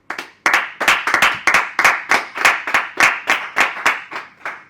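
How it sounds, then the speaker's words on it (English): A small group claps steadily for a colleague in a casual indoor gathering, a dense round of applause with uneven hand claps that swells and fades in waves over several seconds, with no talking. "Round of applause for Dan."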